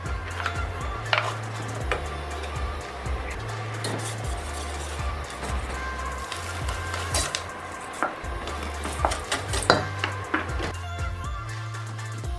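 Egg yolks being mixed in a bowl for a Parisian flan, with repeated clinks and scrapes of a utensil against the bowl over ongoing kitchen clatter and background music, no talk.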